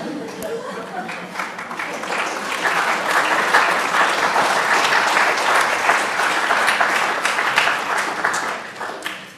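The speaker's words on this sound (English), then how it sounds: "Now, you don't have to applaud at the end of every one of these things." An audience at a poetry reading breaks into warm applause that builds and holds, a dense wash of clapping with a few chuckles mixed in before it fades at the end.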